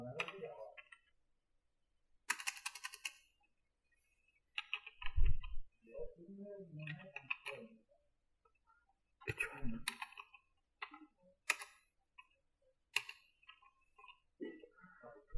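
Typing on a computer keyboard while writing Bangla with Avro software, heard as short clusters of crisp key clicks separated by quiet pauses, with occasional faint speech.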